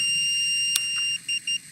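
A breathalyzer gives a steady high electronic tone during a breath test, then two short beeps follow as the test ends, close and clear with no talk.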